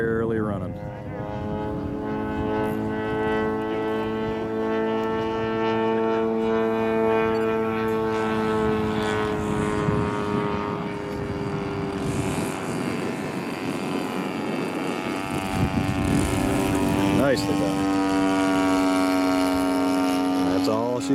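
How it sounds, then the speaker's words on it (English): A warbird aircraft engine barely running and about to quit, with a rough, droning propeller hum and wavering tones that sag and shift over the whole stretch, heard continuously at moderate distance. "I think that engine's just barely running."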